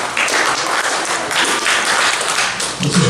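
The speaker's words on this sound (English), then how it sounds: "Nice round of applause, all the Chicago guys." A live comedy audience breaks into steady applause, a dense, loud wash of clapping that continues throughout.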